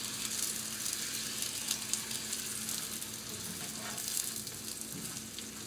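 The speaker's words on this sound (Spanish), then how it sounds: "Primero voy a freír mis tortillas" Corn tortillas half-frying in hot oil, a dense, continuous crackling sizzle with faint stirring, steady and quiet, with no talking.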